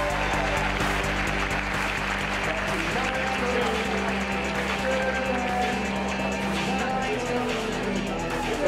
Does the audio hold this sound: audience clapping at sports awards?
yes